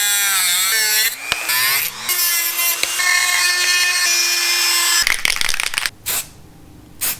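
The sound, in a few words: Dremel rotary tool cutting off metal wiring hooks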